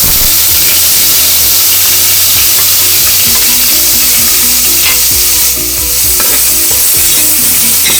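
Onion frying and being stirred in hot oil with whole masala spices in a pan, a loud steady sizzle with repeated scraping stirs throughout, close up, no talking.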